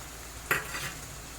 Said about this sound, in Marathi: आलू लसणाची पेस्ट चांगलं परतून घ्यायचं असं